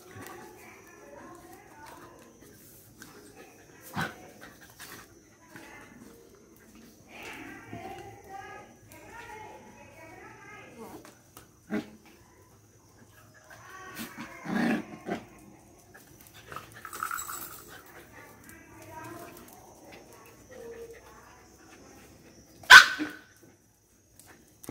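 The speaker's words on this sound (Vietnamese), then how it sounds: "buổi sáng đàn chó nhà mình đùa giỡn tung tăng đủ đủ kiểu hết, đứa nào cũng chơi hết á" A pack of dogs playing in a garden in the morning, with scattered barks and panting, some near and sharp, spread across a long stretch, and a person talking at times over them.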